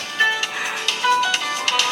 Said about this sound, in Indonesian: Ini dia telepon lagi nih.